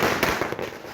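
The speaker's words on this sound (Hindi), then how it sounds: "चुनाव की तारीखों के ऐलान के बाद आतिशबाजी हो रही है।" Fireworks and firecrackers set off at Congress party headquarters in Dehradun after election dates were announced, a loud crackling burst of rapid pops and bangs outdoors.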